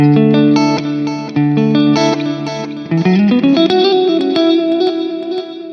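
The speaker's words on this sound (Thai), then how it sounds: "อ่าเติมดีเลย์มานะครับ เป็นดิจิตอลดีเลย์" Fender American Professional II electric guitar fitted with a DiMarzio DP180 pickup, played through a digital delay, with loud plucked notes that repeat and trail into a steady, echoing melodic line.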